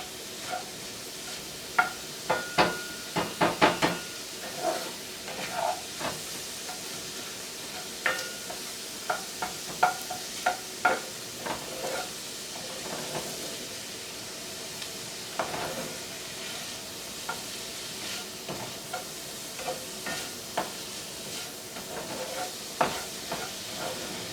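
Chopped onions for lasagna sauté in a pan, a steady broad sizzle with frequent sharp clicks and scrapes of stirring throughout, close and fairly quiet, with no talking.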